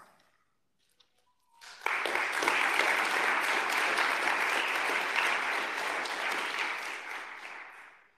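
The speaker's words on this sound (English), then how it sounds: "Thank you for the applause." After near silence, a roundtable audience in a European Parliament history event bursts into full applause that swells quickly, stays steady and dense for several seconds, then tapers off at the end.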